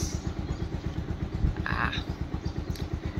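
A motorcycle engine outside a college hostel runs at a quick, steady thumping idle rhythm, fairly close, with a short brighter clatter partway through, while someone talks.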